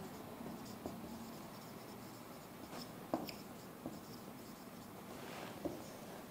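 A marker writing on a board during a sales-training session, giving faint, scratchy squeaks and taps at irregular intervals over a quiet room hiss, with no speech.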